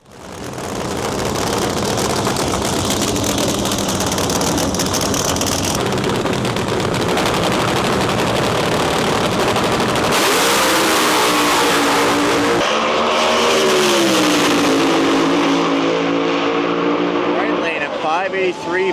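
Supercharged nitro drag racing cars at an outlaw versus pro mod event roar loudly and continuously, the engine note rising and shifting as a car launches and passes, with a sharp change partway through and crowd or commentary noise blended in.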